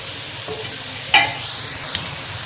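Pasta with vegetables stirred in a hot pan, a continuous sizzle with one sharp scrape of the spoon and a lighter clink, no voices.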